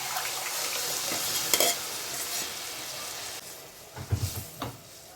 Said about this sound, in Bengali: এবার আমি এতে ডালটা দিয়ে দেবো।